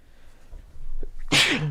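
A single loud, close sneeze bursts out after a brief sharp inhale, ending in a short voiced tail.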